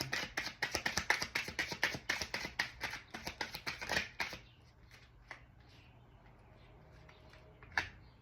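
Tarot cards being shuffled and drawn from a deck: a rapid run of crisp, close riffling flicks for about four seconds, then quiet with a few soft isolated card taps.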